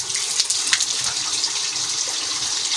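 Steady rush of water flowing out through a siphon hose, a continuous hissing gush with small splashy bubbles, fairly loud and close without voices.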